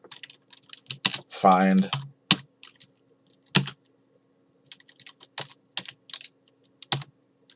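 Someone types on a computer keyboard in irregular bursts of crisp clicks with pauses between keystrokes. A short stretch of speech is heard early on.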